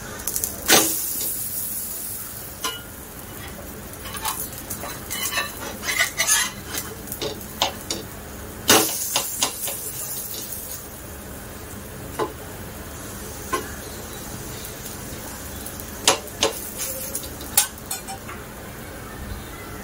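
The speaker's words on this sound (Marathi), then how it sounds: "उलट्या साईडला पण आपल्याला मस्त फ्राय करायचंय." Cutlets frying in a pan on the stove are turned and stirred, with metal utensils clinking and scraping against the pan over a faint, steady sizzle.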